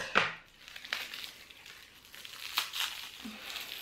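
Crinkling plastic wrapping on a salt-free shampoo bottle being torn open by hand, with a few short close rustling bursts and crackles separated by quieter pauses.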